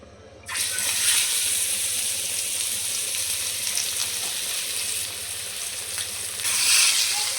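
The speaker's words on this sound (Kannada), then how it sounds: "ಸಣ್ಣ ಗ್ಯಾಸ್ ಇಟ್ಟು ಫ್ರೈ ಮಾಡೋಣ" Fish with curry leaves frying in oil in a pan over low gas, a dense steady sizzle that starts abruptly and holds loud and close, swelling slightly near the end.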